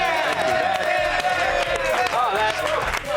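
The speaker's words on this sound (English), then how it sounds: "let's give him a round of applause for being here" A crowd cheers and claps loudly and continuously for a few seconds, a dense wash of applause with scattered whoops.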